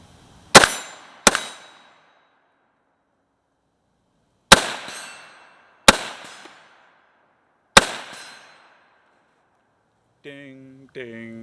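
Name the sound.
Galil ACE rifle shots ringing steel target at 100 yards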